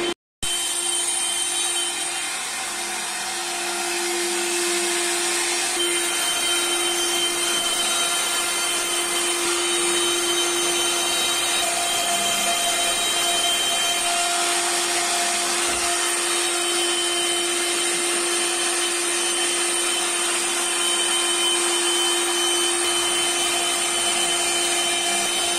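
A CNC machine carves a design into wood, a steady, loud mechanical drone with a constant high whine that runs unbroken throughout.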